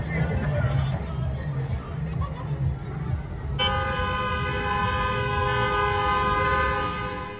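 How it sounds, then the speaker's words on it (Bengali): Car horns blare in a celebration in Oman: a busy street din with faint voices gives way, about halfway through, to a loud, steady, sustained horn blast that holds to the end. "যখন ওনারা কোনো কিছু সেলিব্রেট করে তখন এভাবে গাড়ির হর্ন বাজিয়েই সেলিব্রেট করে"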